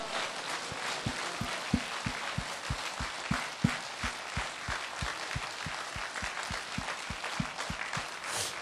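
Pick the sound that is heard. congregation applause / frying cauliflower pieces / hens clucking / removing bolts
congregation applause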